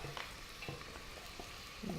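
Chopped fennel and onion sizzle together in a pan, a soft, steady frying hiss with a few light stirring clicks, faint and close, with no talking.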